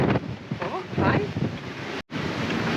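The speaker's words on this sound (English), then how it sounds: "The waves are crazy" Wind buffets a sailboat on a rough ocean passage from New Zealand to Fiji, with gusty microphone rumble and wave wash beneath, while a person talks over much of it.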